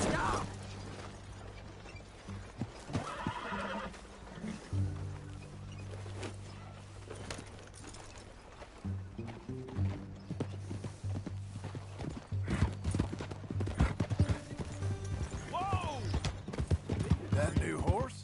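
Horses in Red Dead Redemption make steady clip-clopping hoof beats alongside the mechanical sounds of the game, with a brief whinny near the end.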